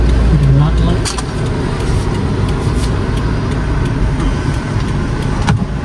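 Busy downtown Chicago road traffic rumbles steadily as a low, continuous wash of passing cars and buses, close and loud throughout, with people chatting over it.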